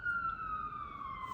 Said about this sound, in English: there's an ambulance or a siren that's for one of our students